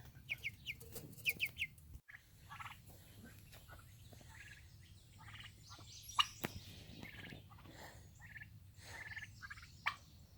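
Turkeys gobble and chatter in a busy outdoor yard, overlapping rattling calls rising and falling, with other fowl clucking nearby.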